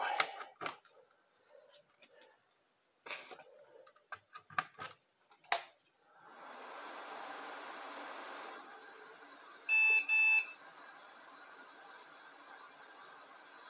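A salvaged scrap-yard computer motherboard powers up: handling clicks and knocks, then a steady fan whir, with a brief cluster of sharp electronic beeps about ten seconds in.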